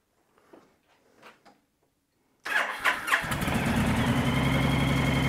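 A Honda motorcycle engine cranks and catches after a few seconds of quiet, then settles into a steady, close idle that continues to the end.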